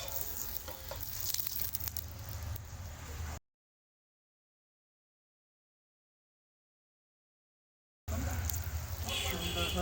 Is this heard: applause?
no